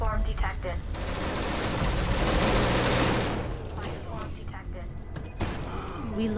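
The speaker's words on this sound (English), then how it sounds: "I think I switch out my pistol for a machine gun" Automatic gunfire from a machine gun in the video game Genesis Alpha One, a dense sustained burst of rapid shots for about four seconds, then sparser shots and game noise with a voice talking over it.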